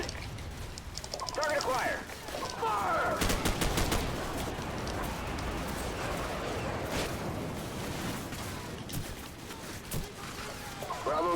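Bursts of rapid automatic gunfire and single shots crack through a Call of Duty 4: Modern Warfare firefight, the volleys coming in clusters while a player talks over the action.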